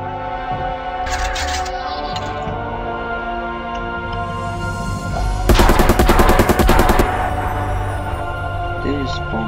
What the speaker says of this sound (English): Chain gun, nice.